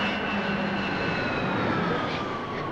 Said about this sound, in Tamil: ஐயோ, எவ்வளவு பெரிய ஏரோப்ளேனுங்க